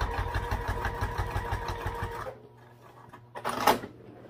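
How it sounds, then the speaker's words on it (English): A sewing machine bastes a backpack lining, whirring in a fast steady rhythm for about two seconds, then stopping, followed by a brief faint mechanical rattle. "We'll angle it up a little bit and baste it on here."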